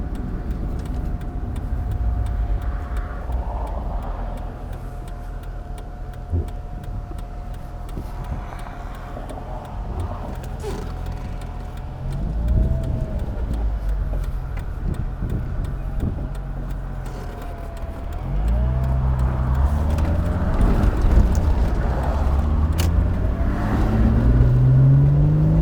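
A Mazda Miata fitted with a Honda Odyssey engine drives on backroads, its engine droning steadily with tonal hum, then rising in pitch through several acceleration pulls, getting louder toward the end; no talk.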